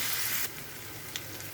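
Garlic paste frying in a pan, a loud burst of sizzle that quickly settles into a softer crackle, with a spoon scraping as it is stirred.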